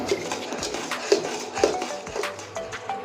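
Spoon scraping and clinking against a pan while chhana sandesh mixture flavoured with cardamom is stirred, with intermittent close taps and scrapes over a low background hiss.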